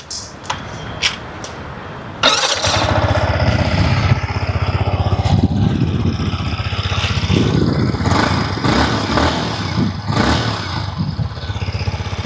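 A Yamaha MT-15 motorcycle engine starts and idles, its exhaust rumbling steadily and close by, with the engine revved up and down several times.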